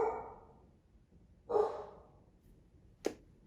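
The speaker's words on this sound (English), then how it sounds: "so that's my dog." A pet dog barks three times with pauses between: two fuller, echoing barks and then a short, sharp one, close by in a quiet room.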